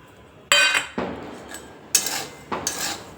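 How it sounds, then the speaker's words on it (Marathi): Peanuts tipped into hot salt in a pan while roasting salted peanuts at home: a few sharp rattling, clinking pours of nuts against metal, close and bright, in separate bursts with quiet gaps between. "त्यानंतर आपण नॅपकिनवर जे शेंगदाणे काढून ठेवले होते ते शेंगदाणे आता याच्यामध्ये टाकून"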